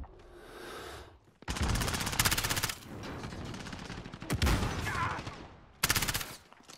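Machine-gun fire in Call of Duty Modern Warfare rattles in loud rapid bursts, three main volleys separated by brief lulls, close and dense with a sharp explosive crack in the middle.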